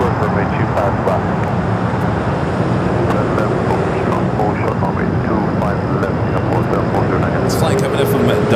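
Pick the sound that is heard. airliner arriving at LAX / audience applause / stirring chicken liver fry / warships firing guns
airliner arriving at LAX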